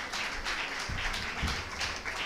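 Audience applause at a law week session, a dense wash of clapping at moderate level that runs the whole way through, with a couple of louder low thumps partway.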